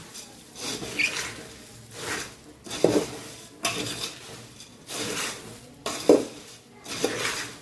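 Puffed rice tossed with spices in a bowl gives rustling, crunchy swishes in repeated waves, with occasional clinks of a spoon against the bowl, close and steady.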